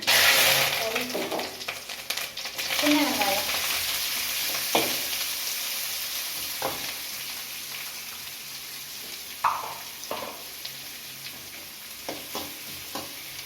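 Mustard seeds popping and frying in hot oil while tempering for adai dosai, a steady close sizzle scattered with sharp crackles and pops throughout.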